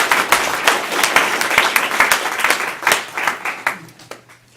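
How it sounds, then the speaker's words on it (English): An audience at an open-house speaking event gives its speakers a round of applause: lively crowd clapping with distinct individual claps that thins out and fades to a few last claps near the end. "Let's have a round of applause to all our great speakers."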